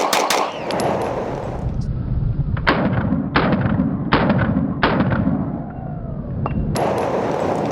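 Four sharp, evenly spaced shots from a compensated Nighthawk Custom 9mm pistol firing 124-grain rounds at a range, each crack loud and close over steady background noise.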